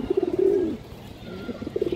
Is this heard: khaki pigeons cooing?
yes